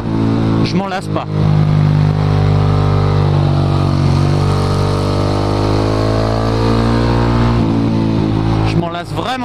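A KTM Duke 690 cafe racer single-cylinder engine rumbles loudly and continuously up close, its pitch rising and holding as the bike pulls, with a rider's voice talking over it at the start and end.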